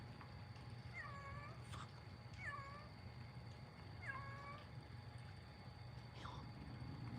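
A cat meows three times in separate, evenly spaced calls, each a short rising-falling cry at moderate distance over a steady low background hum.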